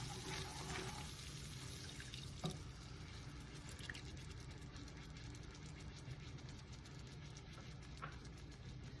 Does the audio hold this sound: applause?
no